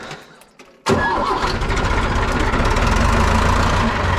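After a moment of low background noise, a UTB tractor engine cranks and catches abruptly, settling into a loud, steady chugging run.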